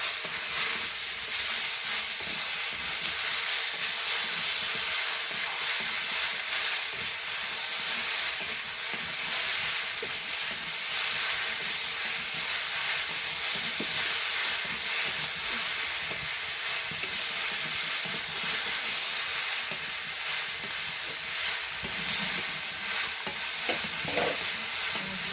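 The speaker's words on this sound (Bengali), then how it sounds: "মশলাগুলো কিন্তু ভালোভাবে কষাতে হবে" Spices and white mustard paste sizzle steadily in a pan for the bectoring shukto, a dense continuous frying hiss with occasional scrapes of a spatula, close and loud with no talk.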